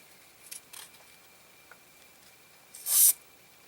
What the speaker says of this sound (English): you just spray the back here